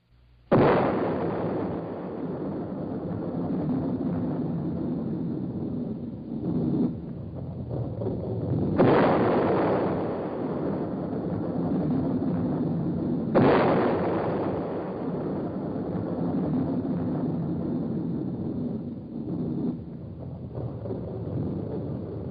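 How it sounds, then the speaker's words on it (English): The first atomic bomb detonates in a series of heavy booming blasts, each a sudden loud burst followed by a long rolling rumble, recurring several times in an old film soundtrack. "The world was deeply shocked by the first atomic explosion."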